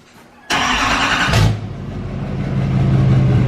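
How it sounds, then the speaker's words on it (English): A 2020 GMC Denali with the Duramax diesel engine cold starts: a sudden loud crank and catch, a brief rev flare, then a deep, rumbling idle close by. "we'll do a little cold start on the truck"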